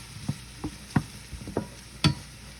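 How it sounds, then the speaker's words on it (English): Vegetables sautéing in a pan for a Southern Easter dish, a soft steady sizzle broken by several sharp clinks and scrapes of stirring spaced irregularly, close and fairly quiet, with no one talking. "I'm gonna let these saute a bit, like maybe 5 minutes"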